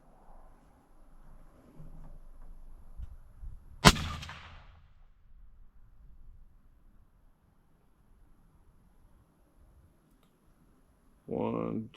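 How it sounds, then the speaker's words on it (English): A single loud rifle shot cracks outdoors during scope sighting with a new Vortex Crossfire, preceded by quiet murmuring and followed by a long near-silence and a brief burst of sound at the end. "I'm just going to shoot one, make some adjustments."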